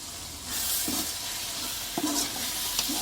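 Chicken for biryani sizzles and fries in a pan while being stirred, a steady close hiss with occasional scraping strokes of the spoon and no talking.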